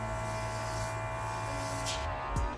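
A small handheld airbrush compressor runs steadily with a close, even electric buzz and whine, loud and continuous, with a brief rattle near the end.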